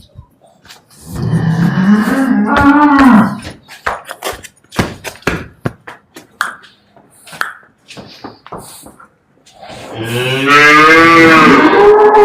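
Two long, loud moos from Jersey heifers, one at the start and another near the end, with scattered clatter and shuffling between them.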